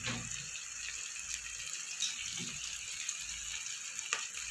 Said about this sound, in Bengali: দিয়ে দেবো একটু জল।